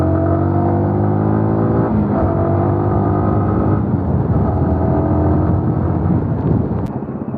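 A Yamaha R15M V4 motorcycle rides along a town road, its engine note droning loud and close with steady harmonics, a brief shift in pitch partway through, then easing slightly at the end.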